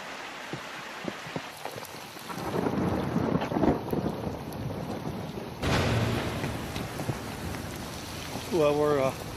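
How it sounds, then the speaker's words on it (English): A thunderstorm with rain on the flanks of Mount Olympus in Greece: steady rain patter with rolling rumbles of thunder that swell and fade, a loud burst near the middle, and a brief tonal sound at the end. "we're stuck on the flanks of Mount Olympus in the midst of a thunder and lightning storm"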